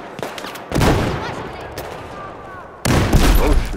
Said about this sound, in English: Whoa, who's shooting?